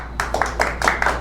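A small audience at a tech meetup demo night gives brief, sparse clapping, a handful of close hand claps over about a second with no voices.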